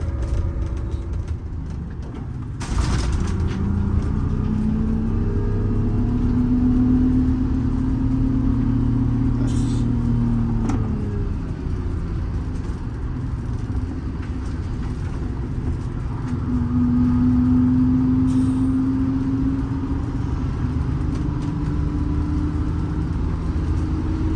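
Bus with a freshly rebuilt engine climbing a hill, a sustained mid-pitched engine drone heard from inside that rises and shifts in pitch as it labors upward, with a gear shift partway through.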